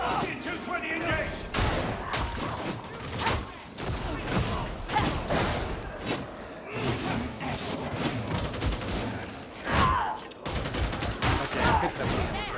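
Sustained suppressing gunfire in a war video game, with repeated loud volleys and rapid bursts over about twelve seconds, punctuated by crashes and booms, with shouted voices mixed in.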